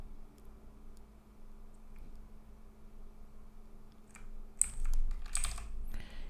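Keys clatter on a computer keyboard in a short burst of a few close, light taps near the end, following several seconds of faint room hiss with only sparse ticks.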